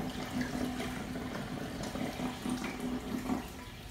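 Water pours steadily into a JBJ Cubey 15 gallon aquarium, a soft continuous splashing and gurgling with a faint tonal trickle, heard close and quiet.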